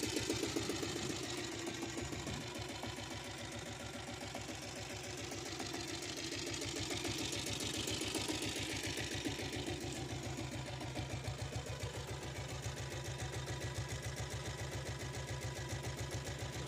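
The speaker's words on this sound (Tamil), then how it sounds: "வண்டி பீட் அருமையாக இருக்குது" A 7.5HP self-start diesel Royal Enfield Bullet motorcycle engine idles with a steady, fast thumping beat, close and continuous with no talking over it.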